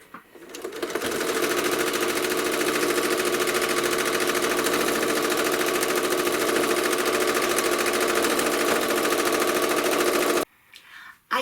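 A sewing machine runs steadily, quilting stitches around the inner border of a patriotic quilt, a fast continuous mechanical whir that starts abruptly, holds loud and even for about ten seconds, then cuts off.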